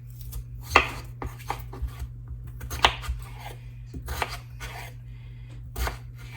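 Ingredients for a bacon chicken ranch casserole are chopped with a knife on a board: a handful of sharp, scattered knocks and scrapes over a low steady hum, fairly quiet and with no talking.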